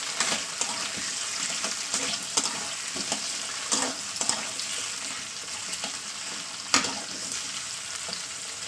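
A fish head fries in hot oil in a pan, giving a steady, close sizzle and crackle with scattered clicks and scrapes as it is stirred. No one speaks.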